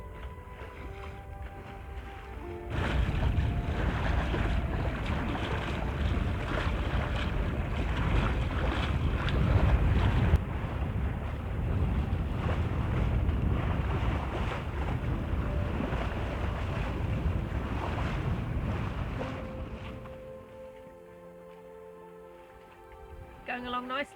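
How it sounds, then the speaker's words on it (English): A sailboat glides across flat water in a light breeze off the Shetland Islands, with steady wind and water rush filling the scene; the sound swells after a quiet start and then eases toward the end. "how about this for sailing in the Shetland Islands? Absolutely flat water, warm, sunny, and a perfect sailing breeze."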